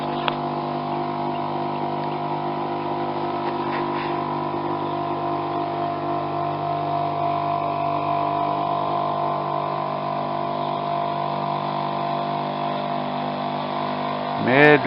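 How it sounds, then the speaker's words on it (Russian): A motorboat with a weak outboard engine crawls slowly upriver, its steady droning hum holding evenly throughout with a brief louder rise at the very end. "Очередная лодка поднимается."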